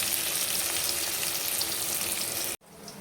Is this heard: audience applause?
no